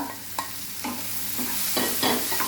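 Snake gourd and tomato sautéing in a pan, with a steady low sizzle broken by several sharp scraping stirs of a spatula at irregular intervals, close and moderately quiet, with no talk.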